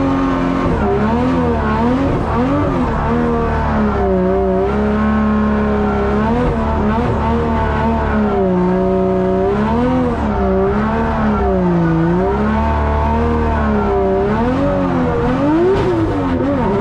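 A Pro-1 drift car races on a track with its engine roaring loudly and continuously, the pitch rising and falling as it revs, and tire squeal through the slides.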